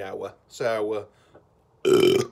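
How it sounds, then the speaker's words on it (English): A loud, drawn-out human burp comes at the end, preceded by someone speaking in short bursts. "excuse me, I guess burped"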